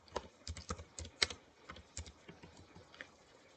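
Quiet, irregular clicking of fingers typing on a computer keyboard, close and alone, keystrokes coming in uneven bursts.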